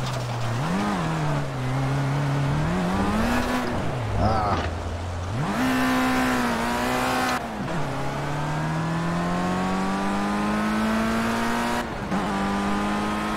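Race car in Project Cars rolling slowly toward the pit on a soaking wet track, its engine note droning steadily and loud throughout, with gear shifts and brief dips as revs rise and fall.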